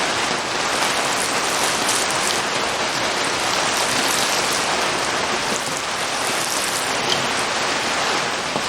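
Steady rain falling over a garden of compost-covered beds and dormant bare-root trees, a dense, even hiss close by that never lets up, with no voices.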